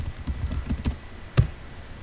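Keys clatter on a computer keyboard as a paragraph is typed into a Word document, a short burst of close, crisp clicks followed by a single sharper keystroke, then quiet.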